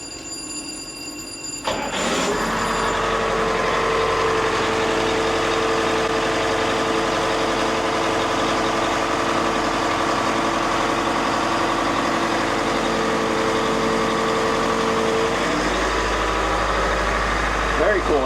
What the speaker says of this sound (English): let's see if we can we fire up the diesels?